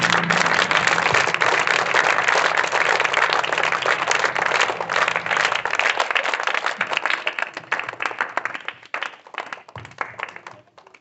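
A classroom group breaks into loud, sustained applause to open the session, dense clapping from many hands that holds steady for several seconds, then thins and tapers off toward the end.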